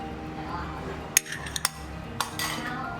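A utensil clinks against a bowl while beaten eggs with chopped mushroom are stirred, a few sharp metallic taps over a steady background hum.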